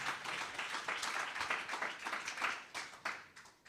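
A church congregation applauding during a sermon, a dense run of hand claps in uneven bursts that rise and fall, moderately loud, with no talk over it.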